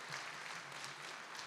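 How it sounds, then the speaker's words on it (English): An audience at an electric cooperative's annual meeting applauds, a dense, steady wash of many hands clapping at moderate distance, brief and even in loudness. "let's give him a round of applause"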